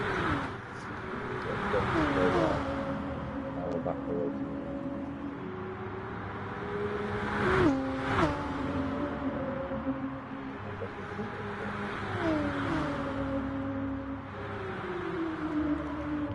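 A Corvette race car engine in Gran Turismo Sport drones and shifts at Blue Moon Bay Speedway, pitch climbing and dropping with repeated gear changes among other cars, under continuous race commentary.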